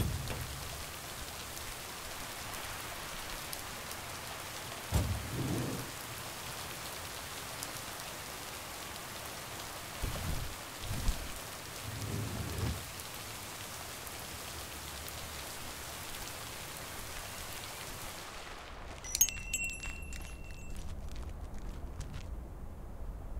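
Steady rain falls in the video game Lake, a constant hiss throughout with a few low dull thumps and soft rumbles, cutting off abruptly near the end.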